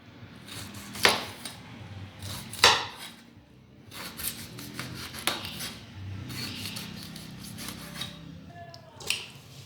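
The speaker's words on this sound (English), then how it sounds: "So we're gonna be removing the peel." A knife cuts the peel off a pineapple with rasping, scraping strokes, several sharp crunchy cuts spaced a second or two apart, close and fairly quiet.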